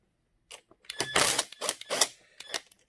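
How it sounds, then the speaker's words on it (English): Bolts on a 2013 Yamaha FZ6 motorcycle battery are loosened with a hand tool, giving a few close, short metallic ratcheting clicks in quick bursts against near silence. "now just unloosen the bolts."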